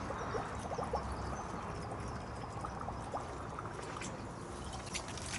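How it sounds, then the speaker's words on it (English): Water poured from a bucket into a bottle at an allotment, a steady close trickle and splash running without a break for several seconds. "I'm just going to fill this bottle up"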